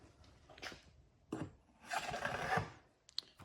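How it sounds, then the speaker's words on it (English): A bicycle seat post slid into the frame during bike assembly, giving short scraping, rasping metal-on-metal friction in a few bursts, the longest in the middle, fairly close and quiet with no talk. "Next, we will grab the seat and slide that in."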